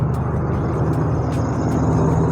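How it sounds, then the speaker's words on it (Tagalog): A large truck rumbles past close on the left, a loud, steady low engine drone with sharp clicks and hiss above, heard from a street-level position. "Ito sa kaliwa ko, truck na malaki. Medyo maingay siya."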